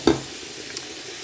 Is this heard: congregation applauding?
no